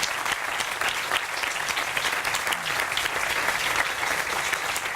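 Dense, continuous applause from an audience saluting the vertical dance company Les Mines de Rien, steady and lively throughout with no pause.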